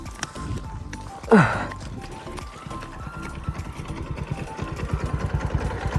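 Dnepr MT motorcycle engine idling outdoors with low, uneven chugging, a brief louder burst near the start, then steady rough pulsing.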